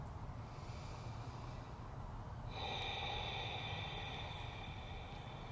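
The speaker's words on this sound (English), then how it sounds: "I use that wave kind of breath from yoga. It's an Ujjayi breath" Slow Ujjayi yoga breath, drawn in and let out through a narrowed throat, gives a soft, steady, ocean-like hiss that is close and quiet, with a single long breath lasting several seconds.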